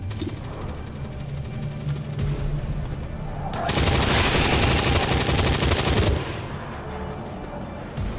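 Weapons firing in the tactical video game XCOM 2 War of the Chosen, a loud sustained burst of rapid automatic fire lasting a couple of seconds over steady background game sound.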